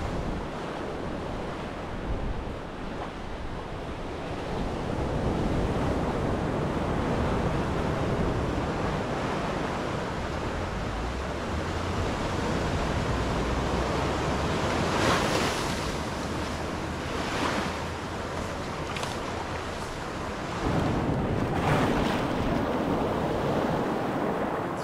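Big ocean waves break continuously on a rocky beach at Rincon, Puerto Rico, with coral reefs close to shore. The surf roars steadily, with periodic louder crashes and wind buffeting the microphone.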